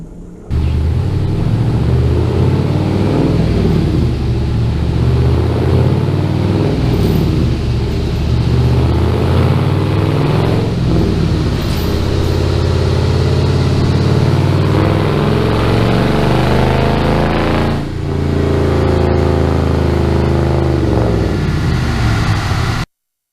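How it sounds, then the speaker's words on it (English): An LS-swapped Mazda RX-7 runs on a dyno, its V8 droning loud and continuous for over twenty seconds, the pitch rising and falling with the throttle before the engine cuts off abruptly at the end. "Threw it on the dyno."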